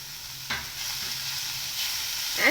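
Grated paneer is stirred with Everest Kitchen King masala in a hot pan, a steady soft sizzle with a couple of scraping strokes of a spoon across the pan, near and moderately loud, no voices.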